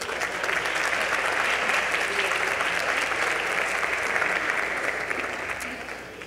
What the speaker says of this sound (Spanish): un fuerte aplauso a los profesores y alumnos que integran el área de reflexión universitaria